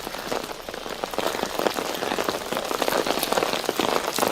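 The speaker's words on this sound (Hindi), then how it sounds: "बारिश का जो दौर है वो लगातार जारी है और कल से ही बारिश हो रही है" Heavy rain pours steadily on the Yamuna Loha bridge in Delhi, a dense, close hiss of drops striking surfaces, continuous and loud with no voices.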